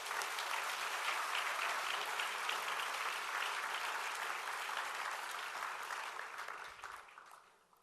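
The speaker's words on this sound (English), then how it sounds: "big round of applause." A large audience at an opening ceremony claps for drum performers, a dense, even wash of applause that holds steady and then fades out toward the end.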